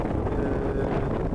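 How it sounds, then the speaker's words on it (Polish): Strong wind blowing outdoors on a rainy day, a dense, steady roaring rush that buffets the microphone without a break, loud and close. "ale wiatr jest niemiłosierny"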